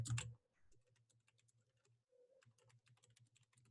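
Keys clacking on a computer keyboard as a title is typed into a document header, with a short burst of quick presses, a brief pause, then steady close typing.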